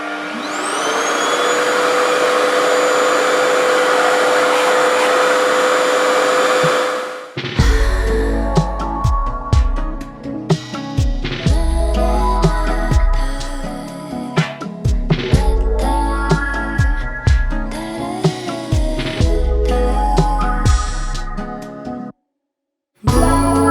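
A Revair reverse air hair dryer runs on speed 1 with low heat, giving a steady whining, vacuum-like hum. It then gives way to irregular rustling and thumping handling noises before falling briefly silent.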